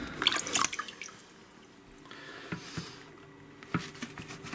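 Water dripping and pattering off a hunting boot outdoors: a few faint, scattered drips and small splashes, quiet and close, with soft handling noise.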